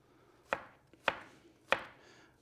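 A knife chops through an onion on a cutting board with three crisp, evenly spaced strikes about half a second apart. The chops are close and distinct, with no voices.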